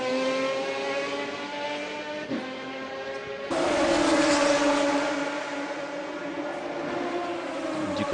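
Race cars lapping at night during the 1999 Le Mans 24 Hours, a sustained high engine whine that holds steady, then a louder car sweeps close past with a rising roar that slowly fades, steady trackside din throughout.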